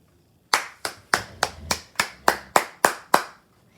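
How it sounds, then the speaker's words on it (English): Close, crisp handclaps for graduating seniors at a senior awards and scholarships event, about ten sharp claps in a steady, evenly spaced rhythm from a single pair of hands, with near-silence around them. "Let's give all these seniors another round of applause."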